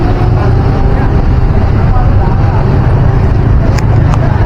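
Traffic on a Jakarta street near Glodok Chinatown, with an angkot minibus passing among other vehicles: a steady, loud, close engine and road rumble that holds evenly throughout, with a couple of brief sharp clicks near the end.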